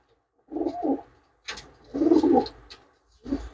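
Several rounded coos from flying pigeons kept for sale come in separate bursts with short silent gaps, near and moderately loud, with no voices.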